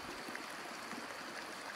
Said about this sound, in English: Now we just made it to the second creek.